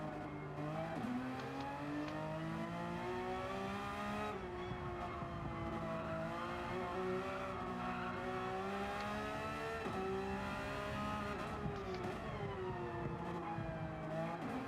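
Race car from Gran Turismo 7 sustaining a loud, steady engine whine through a full lap, pitch rising and dipping with gear shifts and throttle changes, close and continuous with no talk over it.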